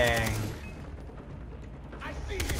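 Gunfire in the video game Far Cry 3: a few sharp mechanical shots and clicks close up at the start and end, separated by a quieter stretch of in-game background noise.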